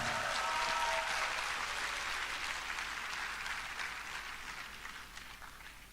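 An audience at an EWC 2025 final four competition round applauding a team, a steady wash of clapping that starts strong and slowly fades over the few seconds.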